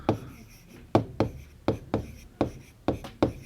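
Marker or chalk strokes on a classroom board as Hindi words are written, a series of about eight short scraping taps in an irregular rhythm, close and fairly clear.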